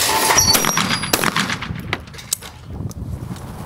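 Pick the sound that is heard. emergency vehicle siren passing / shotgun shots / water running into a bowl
shotgun shots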